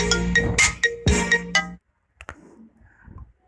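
A smartphone plays an iPhone ringtone: a bright, loud melodic chime pattern for about two seconds, then cuts off, leaving faint scattered clicks and handling noise.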